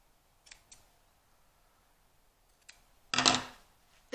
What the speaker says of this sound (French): on va couper le dessus.